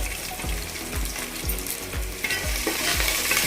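Dried red chillies and curry leaves fry and sizzle in oil with a bright, continuous hiss, accompanied by a steady series of low rhythmic thumps underneath.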